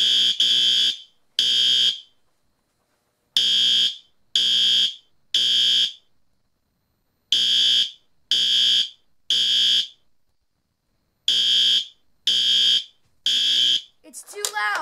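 A loud electronic alarm beeps in rapid repeated bursts, grouped in clusters with short gaps, close and piercing; a voice briefly cuts in at the end.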